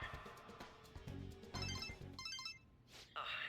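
Electronic phone ringtone from Persona 5 Royal, a short melodic chiming tune ringing out clearly over a quiet scene, with a brief pause before it sounds again.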